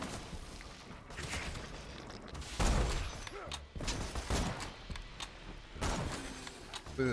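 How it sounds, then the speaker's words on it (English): Video game gunfire from Borderlands 2: a busy stretch of shots and impact bursts, with sharp loud cracks standing out around the middle and near the end over a dense game soundscape. "What's shooting me?"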